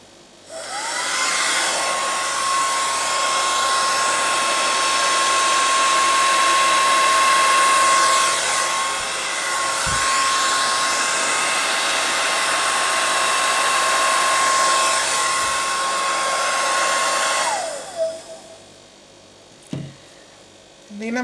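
A hair dryer blows wet fluorescent yellow paint, a loud close steady whirring roar with a whine that runs for most of the stretch, then cuts off, followed by a few brief knocks.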